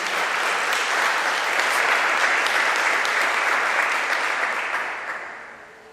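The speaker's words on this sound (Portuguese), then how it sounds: "Você pode aplaudir Jesus mais uma vez por isso?" A church congregation applauds together in a dense, even wash of clapping that stays full for several seconds, then tapers off at the end.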